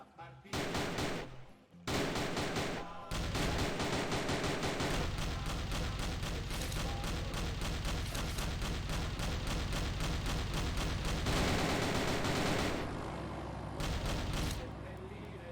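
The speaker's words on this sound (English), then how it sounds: "the player has many options to fight back, including the Thompson submachine gun, grenades, and their trusty secondary pistol" Rapid automatic gunfire from a Thompson submachine gun in the video game CovertWar, loud sustained bursts nearly continuous across the clip, with brief pauses early on and a slight drop in intensity near the end.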